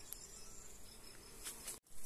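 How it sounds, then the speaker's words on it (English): Continuous bee buzzing close by among garden brambles, a steady high drone with a few brief louder passes, broken by a short dropout near the end. "There's lots of bees in here as well."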